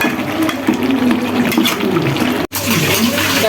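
Plates and utensils being washed after dinner under steady running water, a continuous loud splashing and rushing with small knocks of dishes, briefly cut off near the end before resuming.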